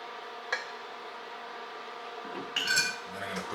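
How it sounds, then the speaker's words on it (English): Pork chops being plated in a home kitchen: a sharp clink early on, then a cluster of dishes and cutlery clattering near the end, fairly quiet against a low background. "I'm gonna go ahead and plate this up."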